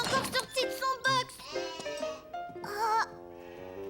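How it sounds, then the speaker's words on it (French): A small sheep bleats in a cartoon, a series of wavering high-pitched cries that come in close succession with short pauses, loud and near. "Ce mouton était beaucoup plus petit que les autres."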